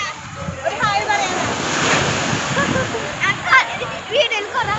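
Sea waves washing in at Chavakkad beach, a steady broadband surf roar with wind buffeting, while people talk and shout nearby over the water.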